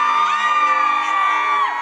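A live concert crowd at a dancehall show screams and whoops together in one loud, sustained, high-pitched roar lasting nearly two seconds, close and dense with overlapping voices.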